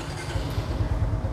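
A 2024 Honda Dream NCX motorcycle in blue fires up and settles into a low, uneven idle, a short burst of close engine rumble and clatter.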